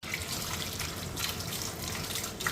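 Tap water runs steadily into a sink while mangoes are washed, a close, continuous splashing gush with small bright spatters and no talk.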